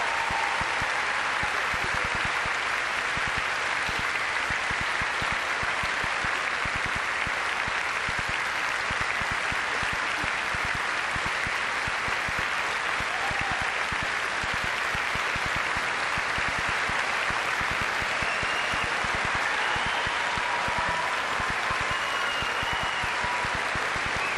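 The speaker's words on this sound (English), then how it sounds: "Please join me in applauding Mr. Joseph Piazza." Graduation audience applause at a high school ceremony: dense, sustained clapping from a large crowd, loud and steady for over twenty seconds without a break.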